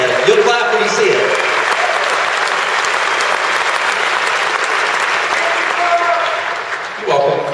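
An audience at a Prague congress centre stage talk claps steadily, a thick, continuous roar of applause that dips slightly near the end before swelling again briefly.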